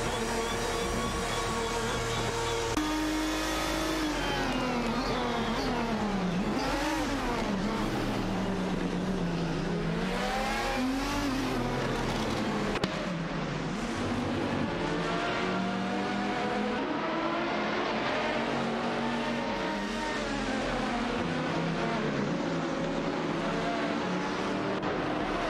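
Race cars including a Lamborghini Murcielago roar through a racing video game, engines revving and shifting with sweeping pitch changes as cars jostle and pass, loud and continuous throughout.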